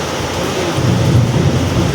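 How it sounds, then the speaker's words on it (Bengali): Thunderstorm with rain and lightning: a dense wash of steady rain noise with a low rumble of thunder building in the second half, no voices over it. "এখন যা বৃষ্টি হচ্ছে তেমনি আকাশ যাচ্ছে, তেমনি বিদ্যুৎ হচ্ছে আবার"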